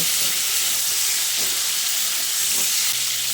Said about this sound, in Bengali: পটলটাকে দিয়ে হাই ফ্লেমে বেশ কিছুক্ষণ ভেজে নেব।